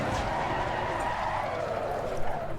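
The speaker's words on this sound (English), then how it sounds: "I'm going to just spin the car to a stop here." Race car spinning to a stop in Assetto Corsa Competizione, a steady broadband tire and engine roar that stays loud and continuous throughout, with no speech.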